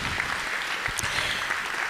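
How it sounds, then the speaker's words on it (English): Audience at a charity masquerade gala breaks into steady, dense applause, a continuous wash of many hands clapping at even loudness with no voices rising above it. "Yes, give them a round of applause."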